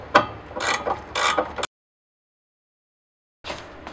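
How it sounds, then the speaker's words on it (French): A ratchet wrench clicks in quick bursts while undoing anti-roll bar links on an Alfa Romeo 156 GTA, two close rattling runs followed by a gap of silence and another short burst. "Je commence par dévisser les deux biellettes de barre stab."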